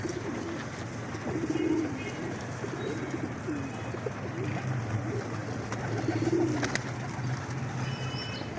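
Pigeons coo repeatedly at a crowded Lahore pigeon market, soft throaty calls rising in clusters over a steady hum of market bustle, with occasional chirps in the background.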